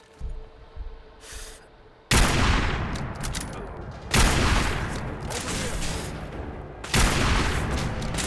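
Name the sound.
gunfire in the video game Fallout 4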